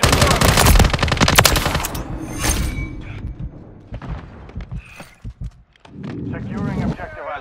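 Call of Duty gunfire: rapid automatic bursts and heavy shots, loud and close, with thuds, followed by sparser shots while a voice speaks over the action.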